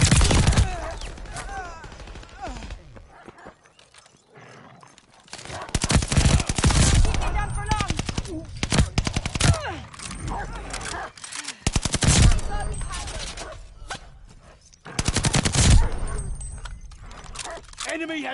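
Bursts of automatic gunfire and explosions from a Call of Duty: Vanguard hardpoint match come in loud, repeated volleys between quieter gaps, with game voice callouts heard over the fighting.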